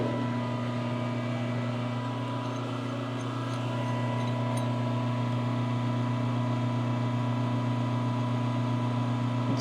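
A metal lathe turns a wheel stud for an old Ford LTL9000 truck at around 500 RPM, giving a steady, loud motor hum with a constant whine that holds unchanged throughout, with no talking.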